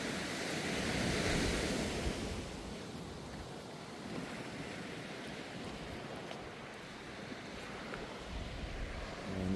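Broadband surf at Khlong Nin Beach on Koh Lanta, Thailand, washing steadily with a swell near the start, mixed with wind noise and no voices.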